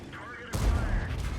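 Tank guns fire in a tank video game: a heavy blast with a rumbling tail cuts in after a quiet stretch, loud and close, with a voice talking underneath.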